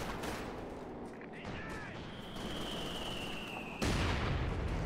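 Heavy 120 mm mortar fire and explosions rumble through a video game battle, a dense continuous barrage with a louder burst near the end, a sustained whistle-like tone running beneath it.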